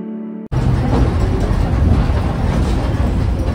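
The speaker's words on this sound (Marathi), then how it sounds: "आमची ट्रेन पण आलेली आहे" A train rolls into a railway station on a ghat route near Shegaon, a loud, steady rumble of wheels and carriages that starts abruptly after a brief quiet hum and continues close by without pause.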